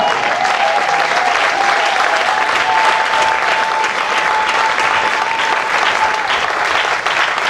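A church congregation at a French-language Sunday service claps loudly and steadily throughout in sustained applause. A faint tone runs through the clapping.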